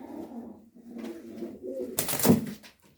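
Young pigeons, white-crested birds in a loft, give soft low cooing calls in short rolling phrases, then a sharper burst of flapping or rustle near the end, close by with no speech.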